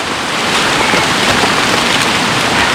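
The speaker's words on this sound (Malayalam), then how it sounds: "അപ്പം നല്ല മഴയാണ്." Steady, dense hiss of heavy rain pouring down in a dense forest by a river, without a break, loud and close, with no voices.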